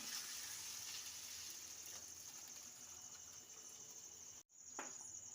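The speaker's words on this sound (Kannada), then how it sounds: "ಇದಕ್ಕೆ ನಾನು ಇವಾಗ ನೀರನ್ನ ಹಾಕ್ತಾ ಇದ್ದೇನೆ" Water is poured into a cashew and soya chunk gravy in a pan, a steady close hiss that runs for about four seconds, breaks off briefly, then resumes.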